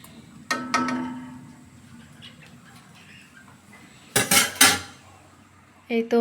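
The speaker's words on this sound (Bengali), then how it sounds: "একটি ঢাকনা দিয়ে এখন আমি ঢেকে দেব" A metal lid set onto a cooking pot of hilsa fish and rice: a couple of sharp clanks early, then a louder burst of rattling metal contact, with another clatter at the end, close by.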